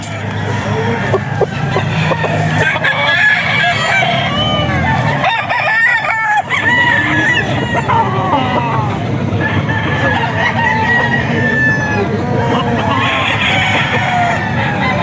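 A Sweater breed gamefowl rooster crows loudly and repeatedly, with clucking from other fowl and nearby voices talking at a busy gamefowl sale in Bocaue.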